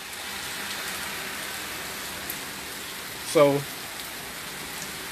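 Steady rain hisses on surfaces through a stormy day, a constant broad wash of drops, with a brief spoken word and a short tonal blip partway through.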